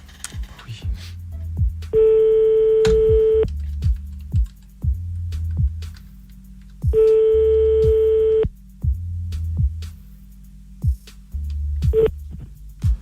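A telephone ringback tone sounds while calling a caller back, two long electronic rings separated by a pause, with low murmuring and bumps in between.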